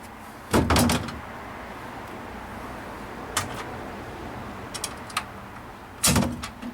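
Seat of a Land Rover 101 sliding forwards on its runners, heard as a few loud clunking knocks near the start and end with fainter clicks and rattles between, close by, no talking.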